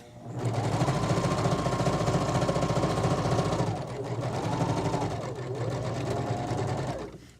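A sewing machine stitching a pillowcase runs in a fast, steady mechanical hum and rattle, loud and close, briefly slowing and restarting before stopping.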